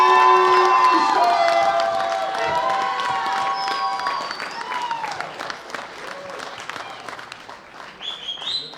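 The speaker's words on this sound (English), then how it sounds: "A big round of applause for Easton Schuster." An audience at the 2016 World Bench Press Championships applauds and cheers for a junior men's gold medal winner. The clapping is loud and sustained at first, with whoops over it, then gradually fades.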